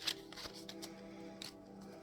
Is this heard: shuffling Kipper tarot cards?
yes